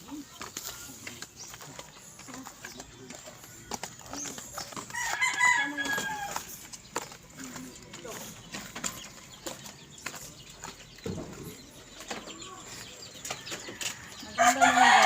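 Pet chickens cluck around a rural yard, with a rooster crowing. The calls are scattered and moderately loud over steady outdoor background noise, with a louder burst near the end.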